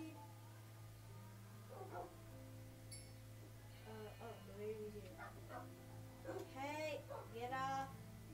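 A dog in the Minecraft video game gives a few short yips and whimpering barks, clustered in the second half over a steady hum of game music, with a person talking over it.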